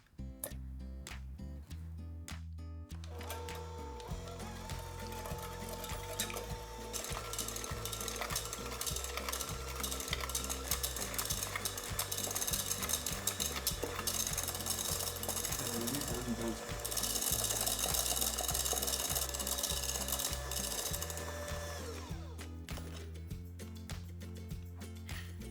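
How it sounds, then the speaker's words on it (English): An electric mixer whips egg whites to stiff peaks in a stainless steel bowl for chocolate mousse, a loud, dense, continuous whirring and rattling that runs almost unbroken for about twenty-five seconds. "we're going to beat the egg whites until stiff peaks form"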